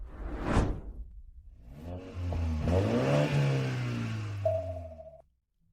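A kidnappers' car revs and accelerates away, a swelling engine roar with a whooshing pass that holds steady for a few seconds and then cuts off abruptly, with no talking over it.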